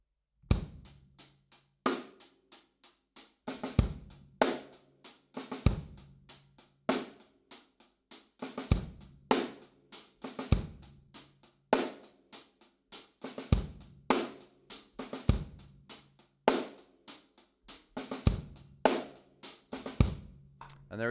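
Drum kit playing a steady groove, with quiet one-handed sixteenth-note ghost notes tucked just before each bass drum hit, punctuated by regular strong backbeat accents, close and unaccompanied.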